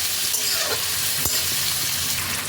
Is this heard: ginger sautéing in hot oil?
yes